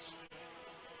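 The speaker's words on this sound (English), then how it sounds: "I wonder if I can get in and just show you that bee just very quickly." A bee buzzes inside a hydroponic greenhouse, a faint, steady drone that holds for about a second with a brief dip near the start.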